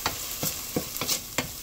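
Ginger and onion sautéing in a pan, steady sizzle and hiss with repeated scraping stir strokes at a quick uneven rhythm, close up, no speech.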